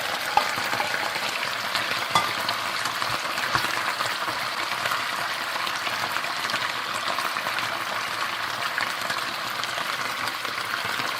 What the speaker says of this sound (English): And I let this fry a little bit too.